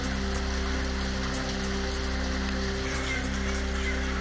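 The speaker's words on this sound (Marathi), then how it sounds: "रत्नागिरी जिल्ह्यात पावसाची संततधार सुरूच" Continuous heavy rain falls in Ratnagiri, a loud steady hiss of drops hitting surfaces with scattered sharper patters, unbroken for the whole stretch and free of voices.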